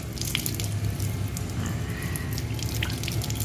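Tap water splashes steadily over an arm and fingers during wudu ablution, a close, continuous rush of running water with small drips and spatters on top.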